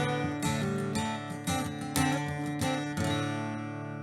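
A guitar plays the second section of the Irish tune Paddy's Green Shamrock Shore, a lively run of plucked melody notes with ringing strings, close and clear, with no talking.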